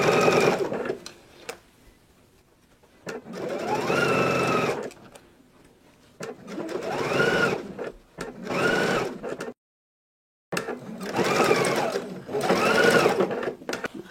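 A sewing machine stitches a zipper in several loud bursts of steady whirring, each speeding up and slowing, separated by short pauses and a brief silent gap.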